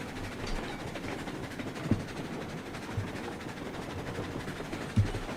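Model train on a layout with DCC sound, a steady low rumbling run with a few soft clunks, faint and continuous with no talking.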